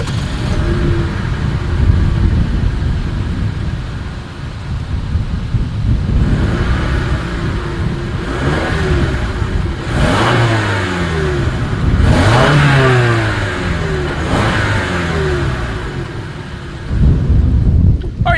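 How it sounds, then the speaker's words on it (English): A 2020 Toyota RAV4 with dual exhaust revs repeatedly, several rising and falling engine sweeps over a steady idle rumble, recorded close and loud with no talking. "As always, here is that exhaust clip."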